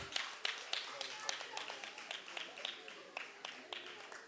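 A modest group claps for a prize winner at a French school journalism festival awards ceremony, irregular claps at moderate distance, fairly faint and slowly tapering.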